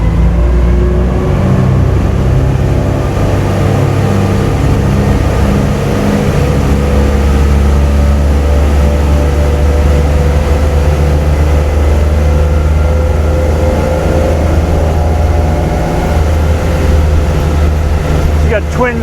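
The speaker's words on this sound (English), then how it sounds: "I get the boat up on speed here, up on plane" Twin 5.7 liter 350 V8 Cruiser engines with Bravo III outdrives push a 16,000-pound boat up onto plane, a loud deep rumble that builds and holds steady throughout.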